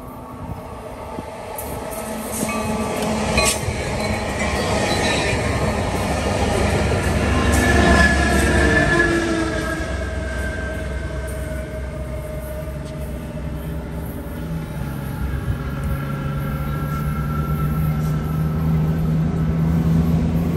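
A Sounder commuter train passes near a BNSF line by the Boeing railroad, a loud sustained rumble of rail cars and wheels that swells around the middle and rolls on steadily to the end.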